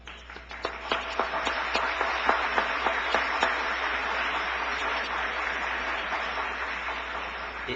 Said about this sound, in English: should receive, I think, a round of applause